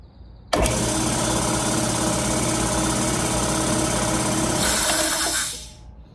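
A compressor starts abruptly after a control unit repair and runs with a loud, steady motor drone and rattling hum, close by, then shuts down and winds off near the end; no talking.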